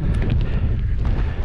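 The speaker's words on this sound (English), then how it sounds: "that wind. I hope it's not too bad" Wind buffeting a microphone on an Easter fell hike in the Pennines near Cross Fell, a steady loud low roar that lasts throughout with no talking.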